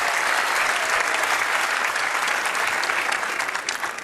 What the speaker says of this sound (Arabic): صفقوا عليهم مزيان.